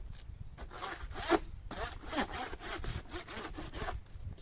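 A surface is scraped clean between baths with repeated rasping strokes, each a coarse rough scrape, close and moderately loud, in an irregular back-and-forth rhythm with no talk.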